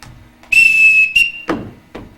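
A captain's whistle blown to summon the children in a high school stage production of The Sound of Music: one long, steady, shrill blast, loud and close, followed by a short second toot.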